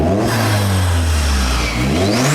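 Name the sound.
Vauxhall Astra VXR engine revving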